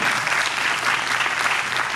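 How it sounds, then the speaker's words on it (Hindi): Audience at a 2023 Hindi literary festival applauding to welcome author Geetanjali Shree, an even, continuous wash of many hands clapping, fairly close and steady throughout. "मैम का बहुत इस कारण तालियों से स्वागत किया जाए"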